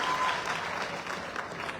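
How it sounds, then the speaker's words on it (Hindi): Applause from an audience at a gathering, a dense steady clatter of many hands that is fairly close and carries on for the whole moment without talk. "यार ताली होनी चाहिए"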